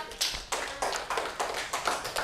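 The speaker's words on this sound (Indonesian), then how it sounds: "Tepuk tangan buat mereka." Elementary school children in a classroom coding lesson clap together for classmates, a quick run of about eight fairly soft, evenly spaced claps.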